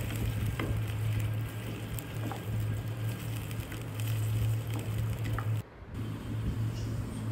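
Garlic fries in a pan with a continuous crackling sizzle over a low steady hum, dropping out briefly near the end before resuming.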